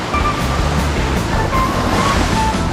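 Ocean surf on Kata Noi beach in Phuket, steady wash of waves breaking and rolling in close by, loud and continuous with a faint wind rush and no talking.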